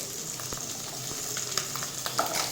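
Fish pieces fry in hot oil in a pan for a green tomato fish curry, a steady close crackling sizzle with a few sharper pops and utensil clicks as the fish is lifted out.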